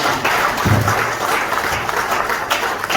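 Sustained applause fills a meeting hall at the inauguration of a resources mobilisation and procurement committee, an even wash of many hands clapping with a few low thuds near the start.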